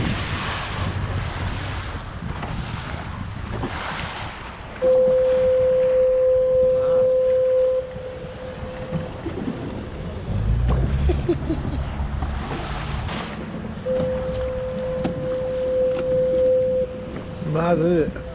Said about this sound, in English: you can hear a horn either off a lighthouse or a boat, just to warn you that there's something there